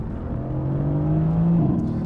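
A 2016 Mercedes-Benz AMG GT S in race mode with its seven-speed dual-clutch holding gear, the engine droning and climbing in pitch as revs build, loud and close, then easing off at the end.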